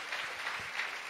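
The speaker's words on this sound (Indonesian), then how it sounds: "Berikan tepuk tangan kita untuk Tuhan." A church congregation claps during a Sunday evening service, a short, soft burst of even applause that sounds fairly distant and quiet.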